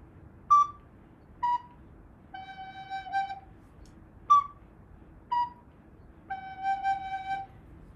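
Three descending musical notes, a high note, then B, then G, played twice with clear pure tones, the last note of each run held longer, in a quiet room.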